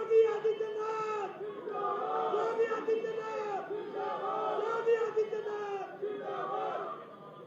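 A large crowd at an outdoor statue-unveiling ceremony cheers and shouts in sustained waves of massed voices, fairly loud and continuous for several seconds.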